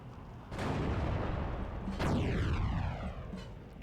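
Artillery fire in the video game Steel Division 2: two loud booms about a second and a half apart, the second trailing off in a long falling whistle-like rumble, with no talk.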